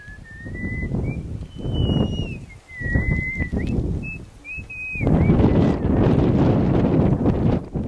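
Wind gusts around abandoned buildings in Adak, Alaska, rumbling into the microphone in uneven surges, with a thin wavering whistle riding above before a stronger, steadier blast takes over.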